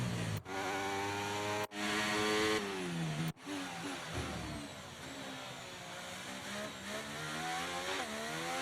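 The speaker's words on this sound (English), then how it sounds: "The engine sounds this year are very good" Formula 1 cars in the F1 23 racing game rev their engines loudly and continuously, a high whining drone with rising and falling pitch sweeps, punctuated by a few sharp cuts between revs.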